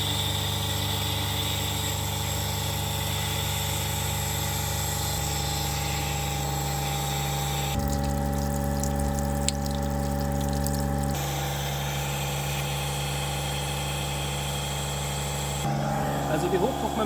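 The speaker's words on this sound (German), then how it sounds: "Also die Hochdruckmembrane fördert jetzt Wasser, hat auch den richtigen Druck und oben geht jetzt das Frischwasser raus." A Rainman watermaker's high-pressure membrane pump in a mobile 230V setup runs steadily while pumping water, giving a continuous droning hum whose tone shifts partway through and then settles back.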